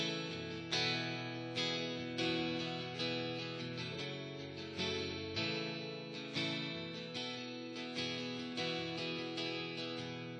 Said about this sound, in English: So that the riff goes like this.